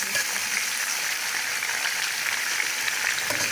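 Quail frying hard in a karahi pan, a loud dense sizzle crackling continuously while being stirred, close and alone with no talk.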